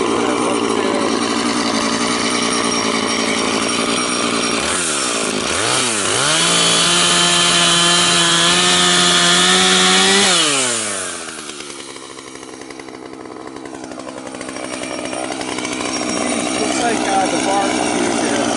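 A cheap $30 chainsaw runs loud and close, its engine revving up, holding a steady high whine for several seconds, then dropping back toward idle and rising again.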